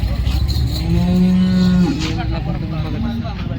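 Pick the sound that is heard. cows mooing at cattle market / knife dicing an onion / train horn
cows mooing at cattle market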